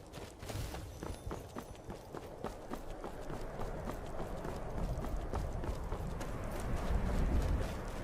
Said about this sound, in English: Every time I hear the horses snort, I feel like stabbing them